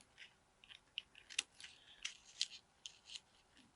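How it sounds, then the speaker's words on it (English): Quiet, close-up snipping of scissors trimming paper edges on a mosaic box, a series of small irregular cuts and rustles, with no voices. "very carefully trim these off with a pair of scissors"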